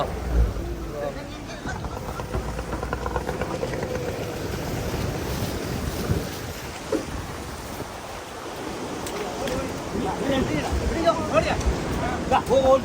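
A fishing boat from the Jaffna fishermen's traditional ritual moves through sea waves, with steady rushing water and heavy wind buffeting the microphone. Voices are heard faintly in the background.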